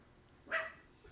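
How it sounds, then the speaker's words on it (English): Several dogs bark in one short burst, moderately loud and fairly near, then a faint yip follows in a quiet room. "Dogs are barking."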